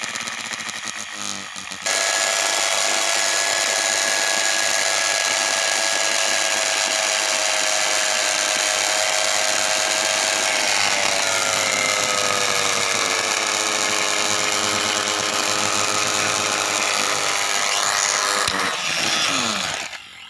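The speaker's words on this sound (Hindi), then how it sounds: "मोटर कितने हाई स्पीड में चल रही थी" A 220V electric motor spins at high speed in salt water, a loud continuous whine that kicks in abruptly after a couple of seconds, its pitch shifting slightly midway before the sound cuts off at the end.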